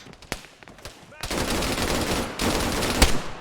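Gunfire from a weapon in Arma 3: a few sharp isolated shots, then a sustained loud automatic burst that pauses briefly and resumes with another heavy crack near the end.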